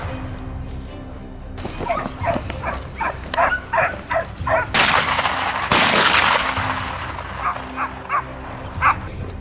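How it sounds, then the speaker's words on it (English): A pack of hunting hounds bays and barks while chasing a wild boar near a wheat field, with repeated barks in bursts and a couple of loud, sharp bangs cutting through the outdoor din. "The pack of hounds were chasing a large boar."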